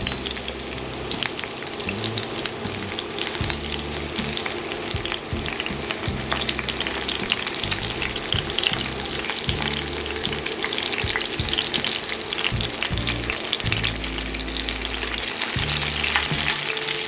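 Food sizzles and fries steadily in a pan on a hot stove for a street-taco cook, with a continuous loud crackle and occasional stirring clatter up close. No talking.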